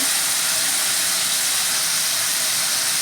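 Water poured into a hot pan of cumin and spices for a vegetarian arbi curry, a loud continuous hissing sizzle that holds steady throughout, no voices.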